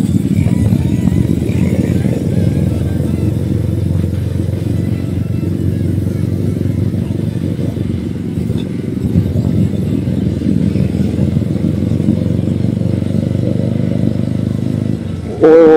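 A motorcycle rides along a rough, damaged road with a steady, close engine drone and wind rumble that continues throughout, and faint rattling can be heard under it.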